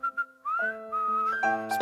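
A person whistles a series of clear, sliding melodic notes imitating birdsong in a theatre performance, close and alone, with short rising and falling phrases.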